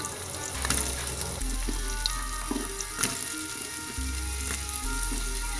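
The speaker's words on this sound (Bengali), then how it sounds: "আমি ধীরে সুস্থে অল্প আঁচে এই নারকেলটাকে ফ্রাই করে নিচ্ছি" Coconut fries in ghee over low heat, a steady close sizzle with light stirring and occasional clinks, no talk heard.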